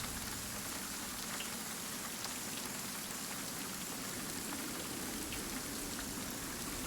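Steady rain falls outside a palace, heard from within its inner chambers as a dense, even wash of drops spattering on surfaces, continuous and moderately loud with no voices.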